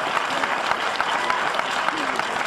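An audience claps steadily through a fan Q&A event in Barcelona, dense continuous applause of many hands at a close, even level with a scattered cheer or two and no pauses.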